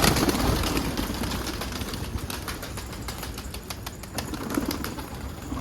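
A pigeon's wings flap in flight, a quick run of soft, close wing beats through the air at moderate volume, with no voices.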